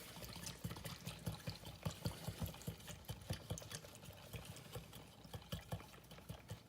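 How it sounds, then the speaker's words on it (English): Food is stirred in a frying pan with a busy, continuous sizzle and crackle of oil, broken by irregular scraping and clacking taps, close up with no talking. "I'm gonna give this a little stir."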